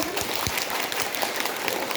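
A group of children clap their hands during a movement game, a continuous, loud patter of overlapping claps with a faint shuffle of feet and no clear speech.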